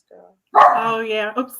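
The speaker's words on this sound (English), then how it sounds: "sorry about my dog." A pet dog barks once in a home setting, a single loud close yelp after a brief faint whine, while people chat nearby.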